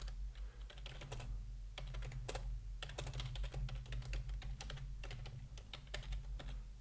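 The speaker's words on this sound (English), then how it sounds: "just kind of typing it in here" Steady rapid keystrokes on a computer keyboard during a programming lecture, a dense quiet patter of clicks with no voice over it.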